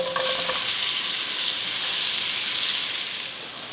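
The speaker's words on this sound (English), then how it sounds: "We're gonna go ahead and get these sauteed" Sliced white onions sauté in olive oil and a tablespoon of butter, giving a loud, steady hiss and crackle that runs continuously and eases slightly at the end.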